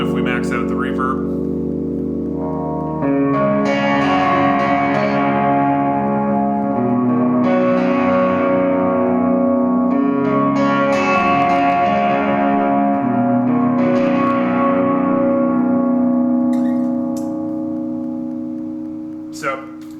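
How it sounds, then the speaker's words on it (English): Electric guitar through an Orange Rockerverb 50 MK1 amp with reverb maxed out, a run of strummed chords washing into long, dense reverb tails that fade out at the end, loud with no talking. "And then if we max out the reverb,"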